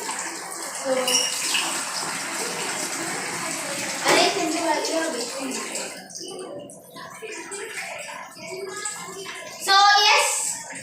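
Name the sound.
water poured into cooking pot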